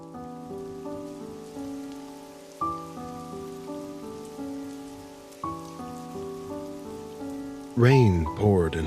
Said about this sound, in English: Rain poured in heavy sheets, turning the street into a black mirror.